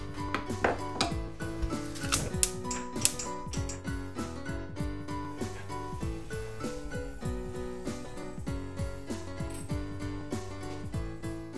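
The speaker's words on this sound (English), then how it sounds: "we're going to start with chopping up just some onion" A knife dices onion on a cutting board in a kitchen, making fast, steady, close chopping taps that continue without pause and without speech.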